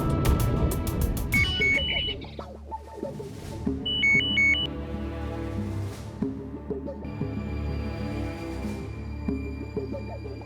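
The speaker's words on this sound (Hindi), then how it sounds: "तुलसी मैडम का फोन।" A telephone ringtone in a Hindi television drama gives two short bursts of electronic beeping, one early and one a couple of seconds later, set against steady background music.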